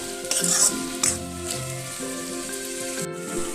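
Figs for a Bengali dumur curry, seasoned with salt and sugar, are stir-fried in a pan. A soft sizzle sits under scraping spatula strokes, with a few sharper clatters early on and no voices.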